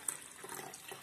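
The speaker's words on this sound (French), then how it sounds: "On va compléter ça avec de l'eau du robinet" Tap water runs faintly into a container for windshield washer fluid, a soft, steady splashing trickle with a small splash at the start, quiet and close with no voices.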